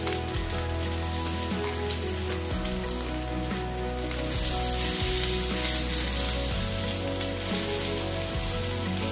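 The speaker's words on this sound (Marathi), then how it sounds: "तर आपल्याला ही शॅलो फ्राय करायचं आहे" A semolina and potato burger patty shallow frying in oil gives a continuous, crackling sizzle with small popping bursts, growing slightly louder partway through. Tonal background music sits underneath.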